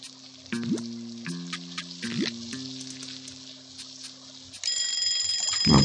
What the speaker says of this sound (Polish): opłaciło się kupić dzwoneczek do kurczaka